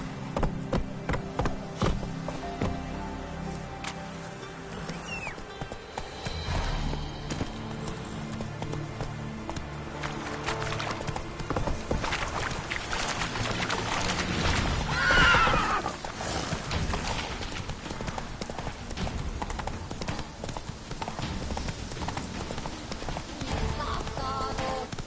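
Horse hooves galloping in The Witcher 3, a steady rapid clip-clop running for the whole stretch under game music and ambience, with occasional whinnies and some spoken lines.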